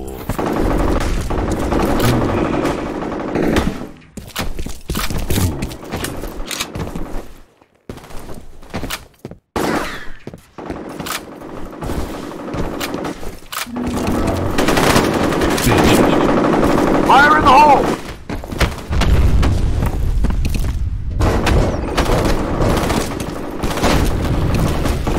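Rapid automatic gunfire and heavy explosive booms from the shooter game F.E.A.R. come in loud bursts, punctuated by brief pauses and short radio-style voice callouts.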